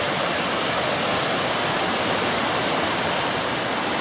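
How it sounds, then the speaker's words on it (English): A river rushes steadily during a hike in the Marquesas, French Polynesia, a loud, even, continuous wash of flowing water heard up close with no other sounds. "here we have another river crossing."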